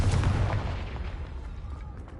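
A single Confringo blasting spell explosion in a Harry Potter video game, one fairly soft boom at the start that fades into a low rumble over about two seconds.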